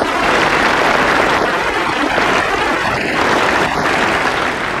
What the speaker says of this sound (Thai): ปรบมือให้ดิฉันอีกละค่ะ